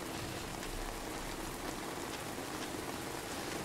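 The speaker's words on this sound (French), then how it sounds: "il pleut énormément dans le jeu" Heavy, steady rain in the video game Heavy Rain, a dense continuous hiss of drops pattering on surfaces, loud and unbroken throughout with no voices.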